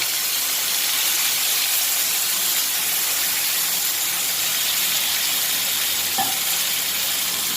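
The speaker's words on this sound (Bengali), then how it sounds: "এই মশলাটা এখন পুরোটা এর মধ্যে ঢেলে দিচ্ছি" Spice paste sizzles steadily in a hot frying pan, a continuous hissing crackle with a brief clink near the end, in a Bangladeshi kitchen.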